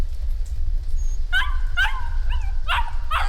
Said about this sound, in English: She's whimpering. She's scared.